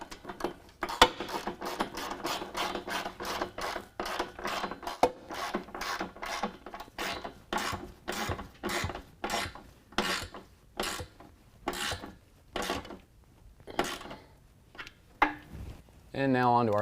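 A ratchet wrench tightens the pinch weld bolt and U-nut bolt on a running board bracket of a Chevy Silverado, clicking in steady repeated strokes with short pauses, close and clear, with talk at times.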